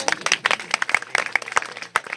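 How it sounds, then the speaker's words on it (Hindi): An audience at a kavi sammelan poetry gathering in Malegaon applauds, a dense patter of many hands clapping steadily, close and lively. "एक बार इसके सम्मान में ताली बजाओ"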